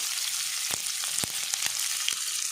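Chopped onion and garlic frying in hot oil for a Mangalorean-style chicken gassi curry: a steady close-up sizzle runs throughout, broken by a few sharp crackles and pops, with no talking.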